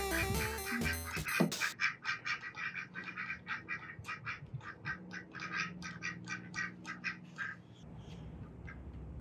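Ducks quack in a rapid run of short, harsh calls close by near a male duck decoy, steady for several seconds after a brief burst of other noise at the start.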